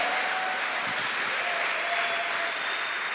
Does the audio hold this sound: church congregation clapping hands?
yes